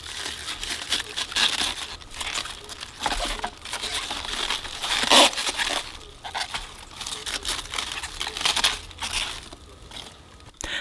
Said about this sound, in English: so I'm only going to peel off 12 leaves.